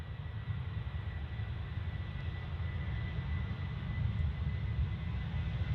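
A Ryanair jet airliner at Manchester gives off a low, steady engine rumble, faint and distant, swelling slightly toward the end.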